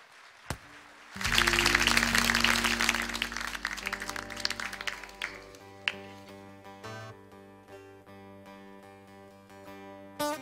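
Audience applause at a Turkish folk music concert and memorial event swells and holds as a dense wash of clapping, then fades as sustained instrument tones carry on alone.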